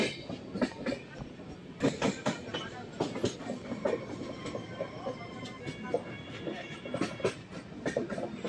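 A passenger train on the Nabadwip to Kamakhya route rolls along with a steady rhythmic clickety-clack of wheels and a rattling carriage, heard from inside without talk.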